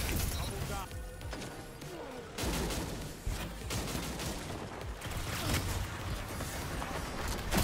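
Rapid gunfire from the shooter game Destiny crackles in dense bursts over a noisy mix of impacts and effects, loud and near, with a voice speaking briefly among the shots.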